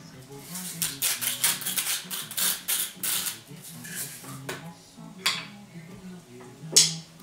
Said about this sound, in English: Now I'm going to just clean up my station because I like to clean up as I go on here